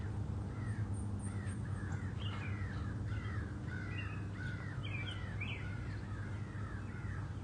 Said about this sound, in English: the birds are laughing at my jokes now too, huh?